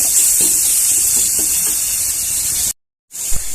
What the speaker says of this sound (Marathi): स्वच्छ पाण्यात परत फुलं धुवून घ्यायची